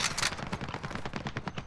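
Rapid video-game gunfire in a Portuguese-language shooter, dense bursts of shots crackling continuously with a loud cluster at the start, no talking over it.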